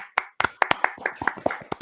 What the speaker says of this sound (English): Let's give our viewers and ourselves a little round of applause.